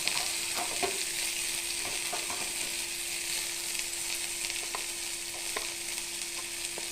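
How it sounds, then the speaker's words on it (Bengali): Chopped onion and green chili sizzle in oil in a hot pan, a steady soft hiss with occasional scraping stirs and light pops. "কড়াই তেতে গিয়েছে, এর মধ্যে আমি কেটে রাখা পেঁয়াজ আর লঙ্কা কুচিগুলো দিয়ে দিলাম।"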